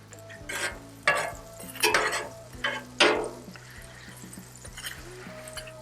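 Butter sizzling under bread on a Blackstone griddle, a steady fry hiss beneath repeated scraping and metallic spatula taps, close and moderately loud, with no one talking.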